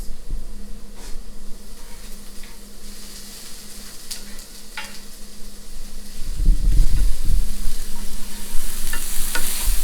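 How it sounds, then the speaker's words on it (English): Food sautéing in butter in a pan for sharp cheddar stuffed meatballs, a close continuous sizzle and crackle with occasional stirring, growing louder and more intense toward the end, no talking. "see how they're sauteing, cooking down a little bit, giving that good butter bath"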